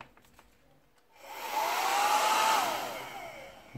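Xiaomi Soocas H3 ionic hair dryer switched on, its airflow rising into a steady close whooshing blow with a faint whine, then easing slightly before the clip ends.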